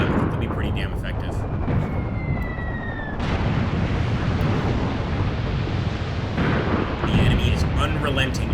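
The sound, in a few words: artillery fire in the video game Graviteam Tactics: Mius Front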